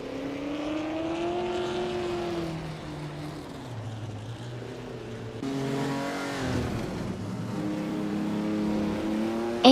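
A 1959 Maserati Tipo 61 Birdcage races in a video game, its engine note rising and falling through gear changes, dropping at one point and then climbing steadily again, moderately loud and with no voices.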